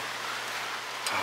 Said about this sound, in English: It is raining outside right now.